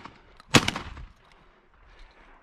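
A single sharp gunshot from a hunt for thrushes cracks once, fairly distant, its echo trailing off into quiet outdoor stillness among juniper trees and ploughed fields.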